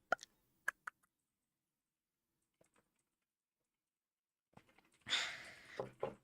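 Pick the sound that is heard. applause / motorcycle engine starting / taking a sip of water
taking a sip of water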